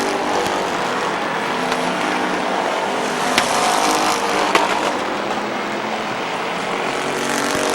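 Race cars run laps at Midvale Speedway, a dense continuous roar of engines heard from the stands with a couple of brief sharper peaks as cars pass, and no voices.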